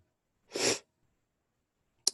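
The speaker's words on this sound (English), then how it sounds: "oh gosh, I'm gonna sneeze." A single loud sneeze bursts out close by, followed by silence and a brief sharp sniff or click at the end.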